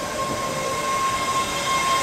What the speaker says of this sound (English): Oh, it's like a robot train.